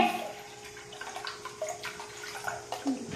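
Water poured into a cooking pot for boiling corn, a quiet splashing trickle running steadily with soft fluctuations, close and faint, with no talking.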